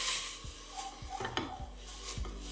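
Onion frying in oil in a kadai pan for kadai fish, a steady soft sizzle running throughout with a few clinks and scrapes of a spoon stirring against the pan.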